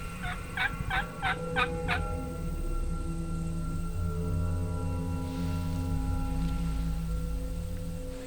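A rapid series of about six gobbles from young male wild turkeys (jakes) responding to a call rings out at the start, fairly clear, followed by quieter outdoor background on a spring hunt in Wyoming's Black Hills.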